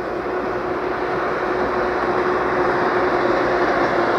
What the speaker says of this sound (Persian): خب قطارم که اومد